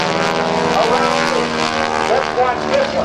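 A propeller aerobatic airplane performs at a naval air station airshow, its engine droning steadily with rising and falling pitch throughout, loud and sustained, while an announcer talks over it.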